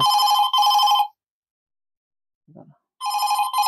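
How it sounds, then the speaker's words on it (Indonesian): A telephone rings with bursts of electronic trilling, two quick pulses, a pause with a brief low voice, then the ringing starts again, loud and close. "Apaan tadi ada telepon"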